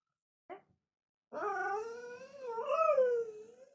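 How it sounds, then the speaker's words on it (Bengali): An indie puppy gives a brief yelp, then a drawn-out, wavering growling howl close by, rising and falling in pitch for a couple of seconds. "এইভাবে কুকুর ডাকে? ডাকে এভাবে?"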